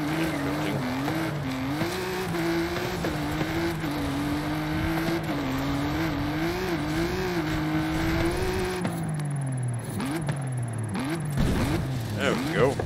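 A 1990s UK S1900-class car in Forza Horizon 5 drives at a stunt jump, its engine droning steadily at high revs with shifting pitch, then tires squealing and the engine note dropping near the end, under a talking voice.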